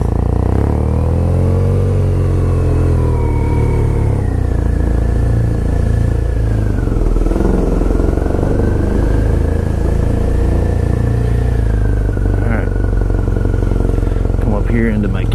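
BMW R nineT Urban GS motorcycle engine rumbling steadily at close range, with pitch shifting as the throttle rises and falls; speech-like content mixes in under the loud engine.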